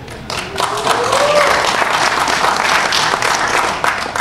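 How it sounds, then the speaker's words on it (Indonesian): Dense, loud applause from a large crowd at a political speech in Indonesia, building quickly and holding steady, with a whistle-like cry rising briefly in the mix. "Tepuk tangannya"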